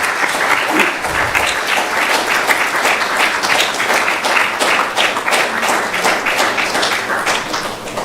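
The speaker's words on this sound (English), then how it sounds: "give them a big round of applause." Loud, sustained audience applause for a birthday at a Sunday feast gathering, many hands clapping in a dense, fairly close wash with individual claps standing out, briefly joined by a low thump near the start.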